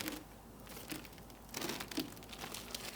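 Protective film peels off a newly unboxed FTX Mountain Rescue 1/10 crawler, with crinkling plastic and a few sharper crackles and tears in irregular bursts, close and moderately quiet.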